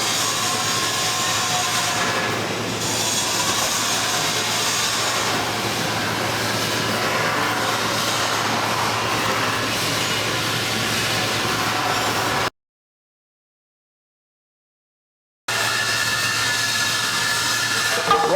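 A cutting torch roars steadily as it cuts through cement-lined pipe, a loud continuous hissing rush that holds for about twelve seconds, breaks off into silence, then resumes at the same level.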